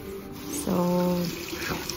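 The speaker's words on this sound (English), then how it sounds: "I rinse it again with the cold water." Cold tap water runs briefly into a sink as a face is rinsed, a short close splashing burst of about a second over a quiet room.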